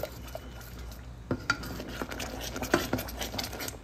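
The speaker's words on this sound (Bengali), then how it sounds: "রুহ আফজাকে এখন আমি খুব ভালো করে কর্নফ্লাওয়ারের সঙ্গে মিশিয়ে নিচ্ছি।" A spoon stirs Rooh Afza mixed with cornflour in a pot, making soft scattered scrapes and light taps against the metal, quiet and close with no talk.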